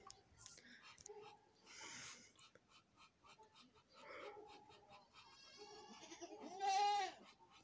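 Baby goats bleat at morning feeding time on a farm, a string of thin, wavering cries close by that grows louder toward the end, with faint murmuring under them.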